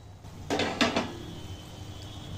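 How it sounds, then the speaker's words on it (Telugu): A lid is set onto a cooking pan holding Telangana sarvapindi, a crispy rice-flour flatbread, giving three quick metallic clinks and clatters close by before a quiet background hum returns. "ఇప్పుడు ఇది దీనిపైన ఒక మూత పెట్టేసి ఉడికించుకోవాలి."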